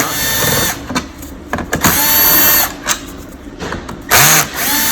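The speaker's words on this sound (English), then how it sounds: "Take these 3 stainless steel screws out." Power screwdriver driving out stainless steel screws from a c400 coffee machine during handling-mechanism replacement; loud whirring bursts start and stop several times, close up, with no talk.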